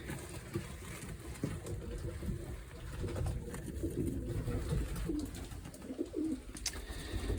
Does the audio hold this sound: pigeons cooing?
yes